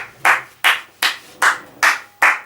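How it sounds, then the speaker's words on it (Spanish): Six single hand claps ring out one after another at an even, unhurried pace, each a sharp close snap with a short decay, with quiet gaps between and no talk. "pero se merece un aplauso."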